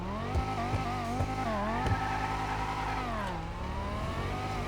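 A convertible sports car engine in GTA 5 Online revs and accelerates, its pitch rising and falling through gear changes, loud and close throughout with no talk over it.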